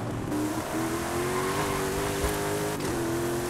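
Hyundai Elantra engine in Forza Horizon 5, a steady sustained drone that rises slowly in pitch as the car accelerates, with a brief dip and shift near the end, loud and continuous with no talk.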